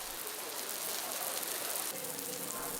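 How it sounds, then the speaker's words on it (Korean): Rain falling steadily, played back as a recording: a dense, even hiss of drops that stays constant and fairly close for the whole stretch, with no voices. "우선 빗소리부터 들어보겠습니다."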